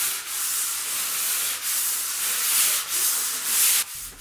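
Steady, close rasping of sandpaper rubbed across a drywall popcorn ceiling in long repeated strokes, fairly loud, with no one talking.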